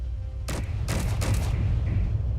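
Assault turrets firing in a video game, a few sharp bursts of shots close together under a steady low rumble of ambient hum, with a faint tone trailing after.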